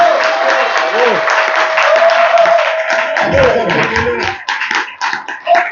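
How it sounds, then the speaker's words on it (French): An audience applauds exhibitors at a Gabonese diaspora entrepreneurship conference, with sustained crowd clapping that thins out into scattered claps near the end, and a voice speaking over it. "Est-ce qu'on peut les applaudir, s'il vous plaît?"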